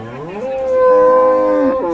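Friesian cow at a cattle market in Dinajpur, a medium-sized two-tooth cow with a calf, giving one long, loud, sustained moo close by, rising and holding steady before tapering off, with no talk over it.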